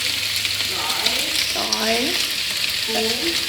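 Corn spring rolls deep fry in hot oil in a Vietnamese countryside kitchen in Dak Lak, giving a steady close sizzle throughout. Voices can be heard faintly in the background, partly masked.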